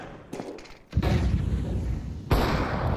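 Counter-Strike grenade detonating near smoke during an ESL Challenger Jonkoping semifinal between Eternal Fire and MIBR: a loud, heavy blast about a second in rolls into sustained rumbling, with a second sharp burst near the end.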